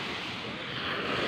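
Sea waves wash steadily onto a beach after a storm, a broad, continuous roar of surf with wind buffeting the microphone throughout, loud and close with no break.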